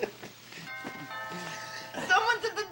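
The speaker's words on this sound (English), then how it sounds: "That was the doorbell." A home doorbell chimes with a short ding-dong in the middle of a tense domestic scene, a clear ringing tone sounding amid people talking nearby.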